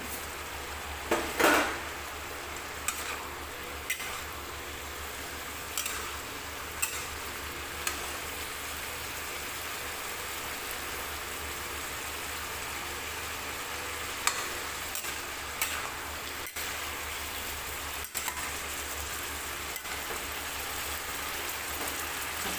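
Potato and flat bean curry stirred in a pan: occasional sharp clinks and scrapes of a spoon against metal over a faint continuous sizzle, close but quiet, with no voices.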